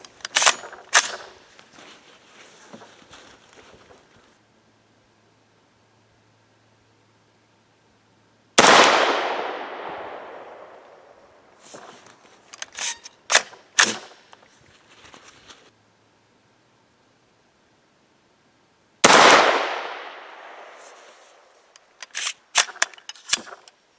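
Subsonic 300 Blackout rifle firing 240-grain cast, powder-coated bullets outdoors: two sharp loud shots spaced apart, each with a decaying tail, amid scattered clicks and handling clatter.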